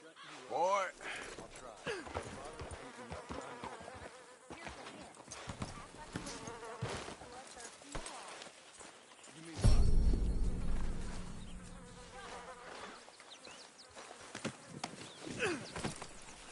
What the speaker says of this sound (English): Get rid of that horse!